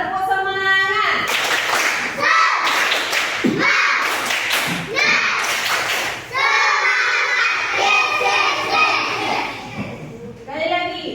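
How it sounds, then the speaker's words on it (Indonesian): Classroom children clap a rhythmic spirit cheer together, bursts of loud group clapping with shouted chants in between, close and energetic throughout. "coba tepuk semangat"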